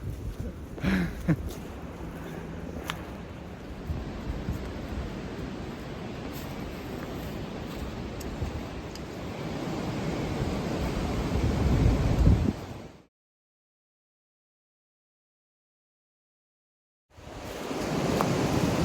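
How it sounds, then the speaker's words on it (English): Strong wind buffets a mountain hiking trail, a loud, continuous roar with gusty swells and microphone rumble that builds toward a peak, cuts to silence for several seconds, then returns just as forceful. "I think this wind's gonna blow us off the trail."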